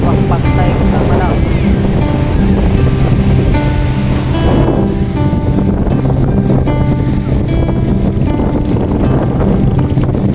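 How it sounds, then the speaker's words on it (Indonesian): Surf at Tamanau beach in Air Manis, Padang, rushes loudly and continuously, with a steady droning hum running underneath the crashing waves. "Itu sampai di sebuah pantai Tamanau"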